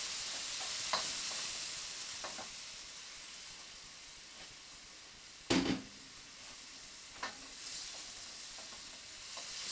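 Thin steak and Seville orange stir fry sizzles steadily in a hot pan, a constant fairly quiet hiss with a few sharp spits and pops, one louder crackle midway.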